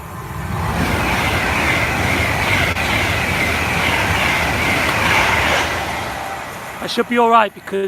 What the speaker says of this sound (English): My train is actually just coming in now.